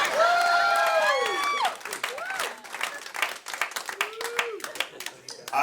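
A comedy club audience of older adults applauds a clean stand-up act, a burst of dense clapping that thins into scattered claps, with a voice talking over the start.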